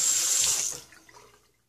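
Water runs from a tap in a bathroom sink while a face is rinsed during a shave, a loud steady hiss that fades out after under a second.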